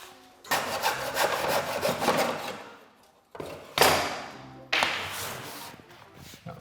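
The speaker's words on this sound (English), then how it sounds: "I'm going to cut them at 45 by using a hacksaw blade and this little mitering block" A hacksaw blade cuts trim at 45 degrees in a small mitering block. Close, rasping back-and-forth strokes come in two bursts separated by a brief pause.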